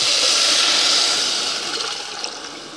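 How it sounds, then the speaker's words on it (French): Four cups of water pour into a pot of vermicelli rice, making a loud rushing splash that tapers off into a softer trickle over a few seconds. "on rajoute nos 4 tasses d'eau"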